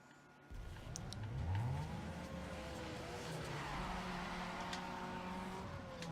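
Engine of a car in a Need for Speed Underground 2 drag race, revving loud and continuous with pitch sweeps as it shifts gears, roaring steadily throughout with no talk.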